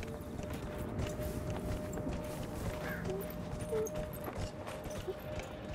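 Horse hooves clip-clop steadily in Dragon Age: Inquisition, a quiet rhythmic trot under a continuous bed of ambient game sound.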